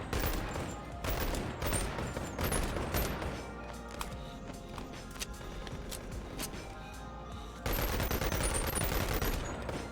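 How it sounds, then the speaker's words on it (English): Rapid bursts of automatic gunfire from an Uzi submachine gun in the VR game Boneworks, dense rattling volleys that pause briefly midway, then resume loud and sustained. "Oh, an Uzi. Well, yeah. I should try to shoot those."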